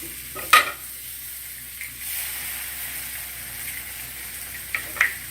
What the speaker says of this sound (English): Now let us add the eggs.